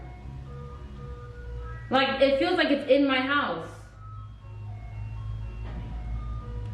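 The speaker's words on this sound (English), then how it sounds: "Is that the ice cream truck, or is that just a very loud toy being played in the backyard?" Melodic ice cream truck chime heard from inside a house, a loud tinkling tune for a couple of seconds, with someone speaking over the tail end and a low hum continuing.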